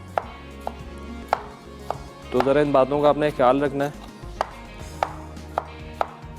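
A knife chopping tomatoes on a board, with sharp, evenly spaced taps throughout, up close and fairly loud, continuing while someone speaks briefly in the middle.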